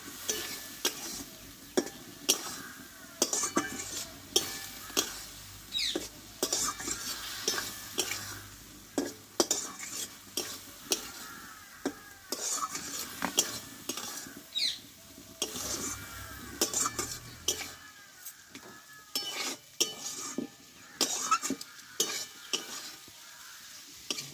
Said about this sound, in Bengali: এবার এতে আমি সিমগুলোকে আমি ঢেলে দেবো দিয়ে একসঙ্গে একটু নাড়াচাড়া করে নেবো